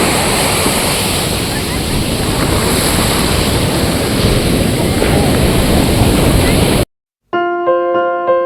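Sea waves at the beach in Puri, a steady close rush of surf mixed with wind buffeting the microphone, then a brief gap followed by a short tonal musical passage.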